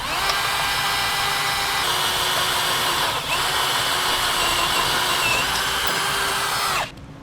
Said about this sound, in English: we'll drill out these 3 holes using a 3/8 drill bit